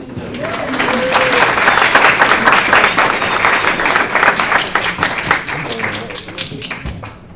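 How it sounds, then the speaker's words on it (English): An audience bursts into applause, a dense sustained clapping from a crowd that swells loudly and then gradually thins out over several seconds. "Let's give these guys a hand."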